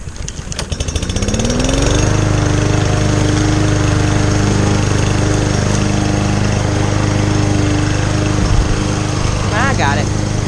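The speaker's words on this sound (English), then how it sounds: "I might see if I can get the riding lawnmower." A riding lawn mower engine starts up and revs to a steady, loud, close droning hum that holds for the rest of the stretch, with a brief rattle near the end.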